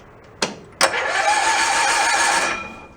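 Cushman meter maid scooter engine with a freshly jetted carburetor, two sharp cranking bursts, then a steady close engine running for nearly two seconds before it dies away.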